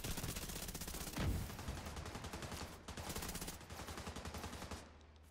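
Minigun fire in the shooter game The Division 2, long rapid bursts of dense mechanical gunfire with brief pauses between volleys, a heavier impact thump near the start, fairly close and without voices.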